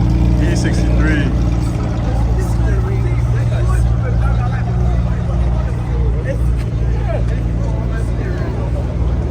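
Mercedes-AMG E63 engine running near a group of parked performance cars, a steady low idle rumble filling the clip throughout, with faint background chatter from people nearby.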